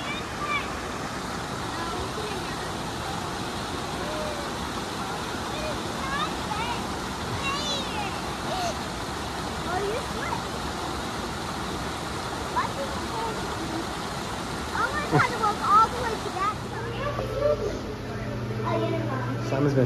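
A small waterfall in the Sierra Nevada region near Lake Tahoe or Sequoia National Park rushes in a steady broadband roar throughout, with faint background sounds near the end.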